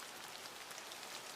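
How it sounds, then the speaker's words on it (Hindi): Steady rain patters softly on a surface in a cartoon, a continuous faint hiss of drops with no voices. "आज तो बाहर बारिश हो रही है"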